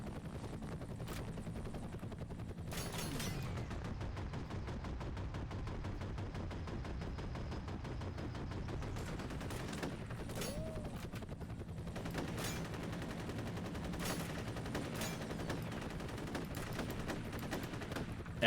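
Sustained gunfire from the video game F.E.A.R. Extraction Point, dense bursts and automatic fire layered over a steady low rumble and engine-like drone, with a few sharp louder shots standing out across the stretch.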